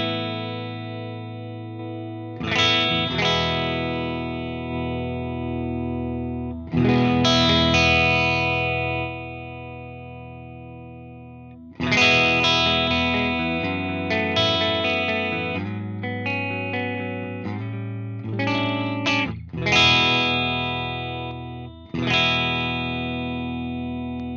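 Electric guitar played through the STL Tonality amp plugin on its clean channel: a series of ringing chords and picked notes with sustained decays, heard alone without talk.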